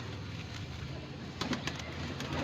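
A Garra pigeon on a rooftop in Bareilly gives a few soft, low coos close by against quiet background noise.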